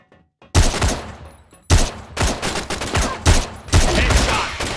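Rapid bursts of Ash-12.7 gunfire in a CrossFire match, loud and close, several clustered shots after a short silence.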